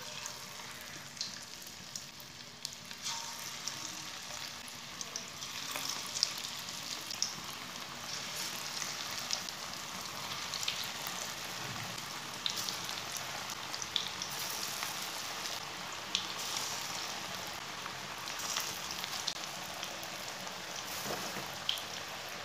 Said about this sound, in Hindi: पकौड़ों को गोल्डन ब्राउन कर लेंगे, अब इसे फ्राई कर लेंगे